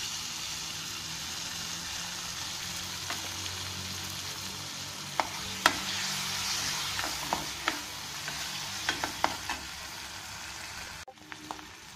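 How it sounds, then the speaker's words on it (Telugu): Drumstick pulp frying in oil in a pan, a steady close sizzle throughout with occasional sharp pops and spatters, ending with a brief clatter. "ఇదే బాండీలో కొంచెం మళ్ళీ ఆయిల్ పోసుకొని మనం ఈ మునక్కాయ గుజ్జులా చేసి పెట్టుకున్నాం కదా, దీంట్లో వేసి 1 నిమిషం ఫ్రై చేయాలి."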